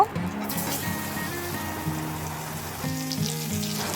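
Potatoes, pointed gourd and ridge gourd sizzling in hot oil with tempering spices while being stirred: a loud opening crackle settles into a steady, close fry, with a faint wavering tone running under it.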